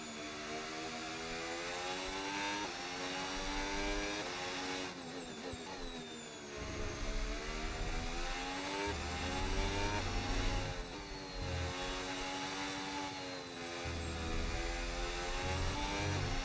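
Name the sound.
F1 car driving at Hungary, F1 26 video game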